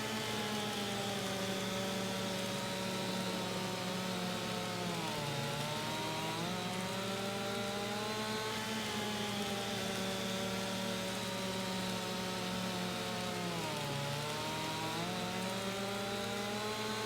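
A chainsaw in Farming Simulator 25 drones steadily throughout, its buzzing engine pitch sagging and recovering twice as if bogging under load, loud and continuous with no talk.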